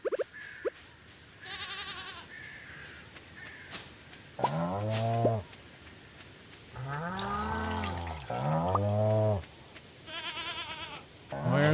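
Cows moo in the video game Stardew Valley, several drawn-out calls rising and falling across the span, mixed with game sounds, with a person talking in between.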